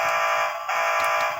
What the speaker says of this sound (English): So that's the fire truck noise.